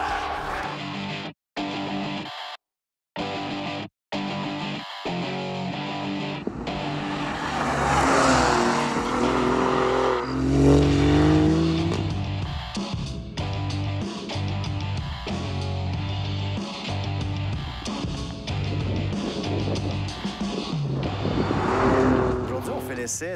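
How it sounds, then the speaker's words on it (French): An Alfa Romeo Giulia Quadrifoglio driven flat out, its engine roaring loud and sustained with rising and falling revs and gear changes, under an almost continuous talking voice after a few choppy gaps at the start. "Du Alfa Romeo Giulia Quadrifoglio."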